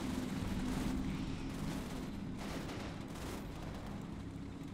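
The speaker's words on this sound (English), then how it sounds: "My infantry's getting shot at here." Continuous battlefield gunfire and artillery rumble from the WWII tactics game Combat Mission: Final Blitzkrieg, a dense, steady wash of shots and booms with no pauses, loud throughout.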